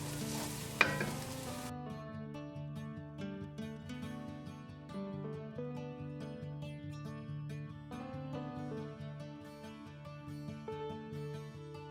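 Carrots, onion and garlic soften in a pan for a ham and potato chowder, a soft steady sizzle running beneath background music with no talking.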